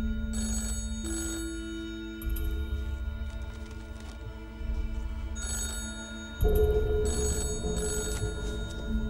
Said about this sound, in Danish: da telefonen pludselig ringede ved 18-tiden